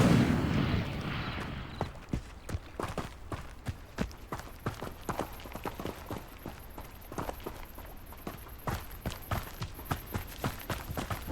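Repeated Incendio fire spells cast in Hogwarts Legacy, a quick series of sharp, punchy bursts in an irregular rhythm, close and fairly loud, following an opening rush of noise.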